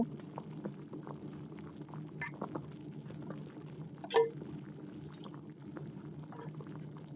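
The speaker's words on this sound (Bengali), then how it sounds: "তরকারিতে আমার জাল উঠে গেছে, বুট বুট করতেছে" A pot of rohu fish curry bubbles steadily at a low, even level, with soft pops and faint clinks and one brief louder knock midway.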